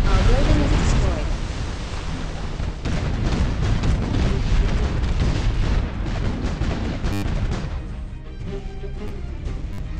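Dense, continuous battle din from the strategy game Art of War 3, with booming explosions and artillery-like blasts as a building is destroyed, loud and sustained throughout, with game voice lines mixed in.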